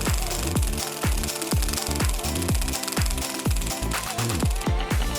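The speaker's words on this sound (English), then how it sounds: "I present an amazing personal tattoo machine, just like the really bad boys use in prison" A homemade prison-style tattoo machine running, with a loud mechanical buzz and repeated rhythmic rattling strikes close to the mic, no voices.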